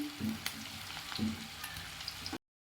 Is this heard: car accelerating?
no